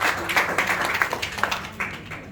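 An audience claps for Datuk Ismail Cik at an event, a short burst of moderate, scattered applause heard at a slight distance.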